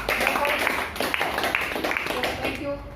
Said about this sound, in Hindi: सबसे पहले आज अनु के लिए जोरदार तालियां